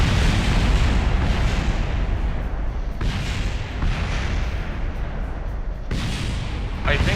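Dense, rumbling explosions from the Kerbal Space Program 0.90.0 simulator roar almost continuously, with sharper new blasts bursting in around three and six seconds, loud and close throughout.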